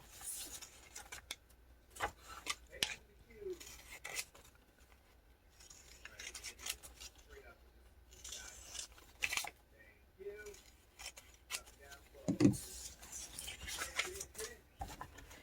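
Scissors snip and paper rustles as pages are cut from a vintage book, quiet intermittent cuts and soft handling sounds in a calm room.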